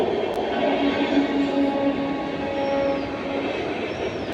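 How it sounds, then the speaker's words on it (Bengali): A passing train rumbles steadily at moderate distance, with a faint tonal hum riding over the continuous rolling noise and no voices. "এই যে ট্রেন যাচ্ছে"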